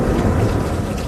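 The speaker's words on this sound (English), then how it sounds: "continue to enjoy the rain and the thunder and the lightning" Steady heavy rain pours down around a porch with a deep low rumble of thunder underneath, loud and continuous, with no voices.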